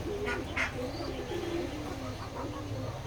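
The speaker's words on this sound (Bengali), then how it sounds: "আমাদের এই খামারে অনেকগুলো কবুতর আছে।" Pigeons of local and foreign breeds on a pigeon farm coo softly at a distance amid a low, steady background murmur, with a few brief higher calls.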